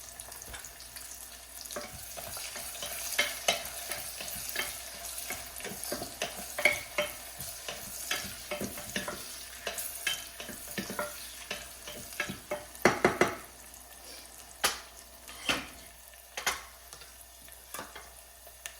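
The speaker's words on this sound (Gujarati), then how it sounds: "હવે આપણે જે ડુંગળી લીધી છે અડધી ઝીણી સમારીને એ નાખીશું" Finely chopped onion sautés with roasted cumin in a pan for daliya khichdi with moong dal. A soft, steady sizzle runs under many repeated spoon scrapes and clacks against the pan.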